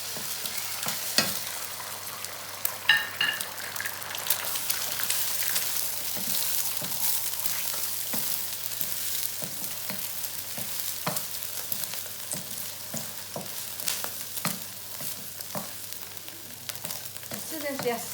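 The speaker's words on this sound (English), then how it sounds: "Got 2 eggs here, which I'm just going to scramble." Two eggs scrambling in a spoonful of vegetable oil in a wok for char kuay teow: a steady, close sizzle runs throughout, punctuated by repeated sharp scrapes and clacks of a spatula stirring the eggs.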